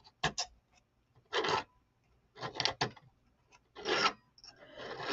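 Hand filing along the edge of a sterling silver cuff bracelet, a series of short rasping strokes, singles and quick pairs separated by brief pauses, close and crisp.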